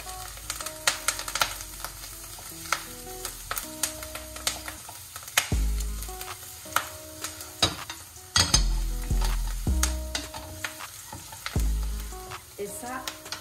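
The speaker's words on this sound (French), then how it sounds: "Faire revenir l'ail rapidement." Garlic sautéing quickly in a pan, a steady close sizzle broken by clicks and clacks of a utensil stirring against the pan, with a few louder knocks, no talk.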